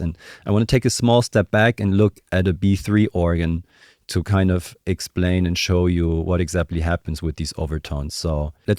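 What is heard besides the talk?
No everyday noise stands out behind the speech.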